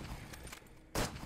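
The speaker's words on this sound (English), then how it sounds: "Hunting rifle." Hunting rifle firing in a zombie survival video game: one sharp, loud crack near the end, set against a steady background noise.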